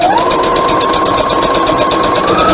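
Domestic sewing machine back stitching through fabric for a thumb hole cuff, a loud steady mechanical whir and rapid needle chatter running continuously at close range.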